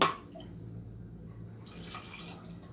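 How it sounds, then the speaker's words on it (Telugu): A small splash of water poured into a cooking pot holding milk for semiya halwa, a steady, soft trickle running alone for a few seconds after a brief louder start. "కొంచెం అది కడిగి ఒక చుక్క నీళ్ళు పోస్తాను కొద్దిగా"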